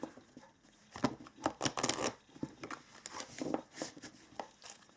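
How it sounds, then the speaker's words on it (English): Oracle cards being shuffled by hand, close and soft, with irregular bursts of papery riffling, flicking and rustling and brief pauses between. "I want to pull some oracle cards here to see if they tell us something. Just shuffle a couple of times here."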